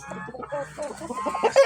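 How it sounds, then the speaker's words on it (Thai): A caged male fighting cock in a rural garden clucks in a quick run of short, close, uneven calls, growing a little louder toward the end. "เป็นไก่ชนนะพี่น้องไก่ตัวผู้"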